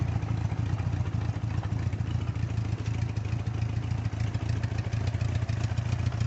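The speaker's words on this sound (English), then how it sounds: "of course a carbureted bike will stumble a little bit when it's cold" A cold carbureted 1978 Honda Goldwing motorcycle engine idles steadily up close, a low continuous rumble with slight unevenness and mechanical clatter throughout, no voices.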